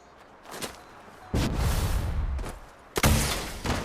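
Cremator weapon in Fallout 76 fired at a yao guai: three loud, roaring bursts with a whooshing, fiery body, each starting abruptly and sustaining before the next, the last one the strongest.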